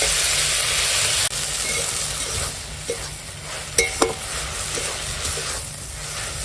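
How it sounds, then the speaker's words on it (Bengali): Salted water spinach (kalmi shak) sizzles steadily as it fries in a pan, with a constant hiss and occasional sharp clinks and scrapes of stirring close by. "দেখো এখন শাকটা রান্না হচ্ছে"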